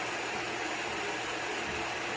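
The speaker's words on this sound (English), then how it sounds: "This dog hates hearing this vacuum." A vacuum cleaner runs steadily at moderate distance, a continuous airy whooshing drone with no speech over it.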